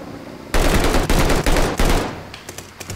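Heavy-recoil gunfire in the Call of Duty: Vanguard video game: after a short quiet lead-in, a loud, dense burst of rapid automatic shots lasts about a second and a half, then fades into scattered faint shots and game ambience, with no talk.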